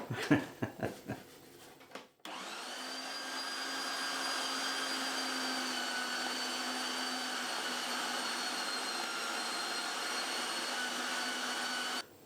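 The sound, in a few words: electric meat mincer running with leftover meat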